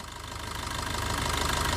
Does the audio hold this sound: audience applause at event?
no